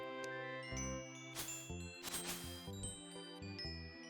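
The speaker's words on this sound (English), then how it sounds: "turning them into some weird chimes that have a cool burst ability" Wyvern chimes, a magic instrument in Terraria's Thorium mod, ring out as bright tinkling bell tones in a quick melodic run, with a few louder shimmering bursts, set against game music.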